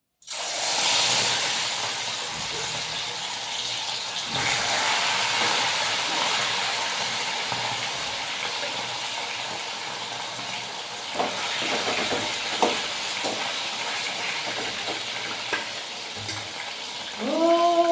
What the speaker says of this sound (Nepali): आज चाहिँ म यो अलिअलि फ्राई गर्छु है